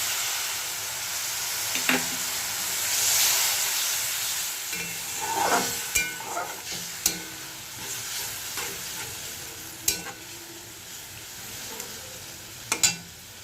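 Spice paste sautéing in oil for an egg omelette curry: a soft continuous sizzle broken by sharp clinks and scrapes of a spatula stirring the pan, close up and without speech.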